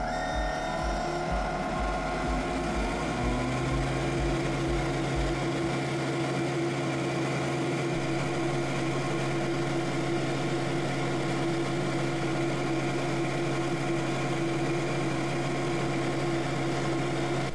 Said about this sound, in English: So let's see how the machine handles 8 millimeters of plywood.